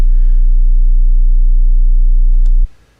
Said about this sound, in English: I'll keep the tone generator on